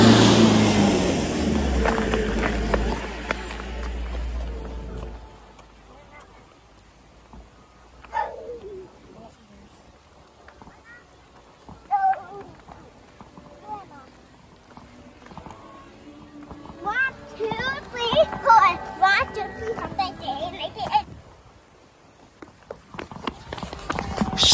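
Horse hooves clip-clop on a street in Baguio City, intermittent and moderately near, mixed with passing traffic, birds and voices of people talking.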